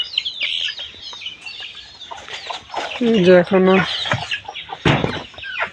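Layer hens in a poultry shed cluck and squawk in short, irregular bursts during cold weather, with someone speaking over the flock.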